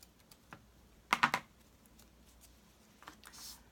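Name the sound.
scissors cutting craft material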